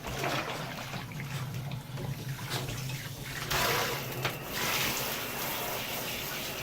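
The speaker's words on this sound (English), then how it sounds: "We'll give him a rinse off now." Running water rinsing shampoo off a dog during a bath, a steady close gush and splash that shifts in tone as the stream moves, continuing without pause.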